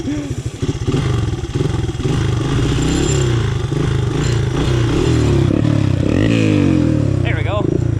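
A Honda 200X motorcycle engine, now fitted with a muffler, revs loud and close, rising and falling in rough pulses before settling into a steadier idle, with a brief whistle-like squeal near the end.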